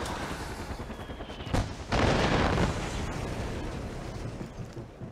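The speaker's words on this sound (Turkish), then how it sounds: "Helikopter patladı." A helicopter explodes in Far Cry 4 with a loud blast partway through, followed by a rumbling roar that fades over a couple of seconds amid background game noise.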